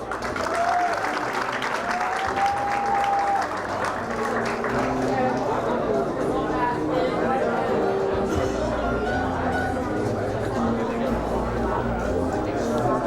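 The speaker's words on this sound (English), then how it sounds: "Applaud, please." A pageant audience claps steadily throughout, with chatter and murmuring voices mixed in and a tone sliding in the background.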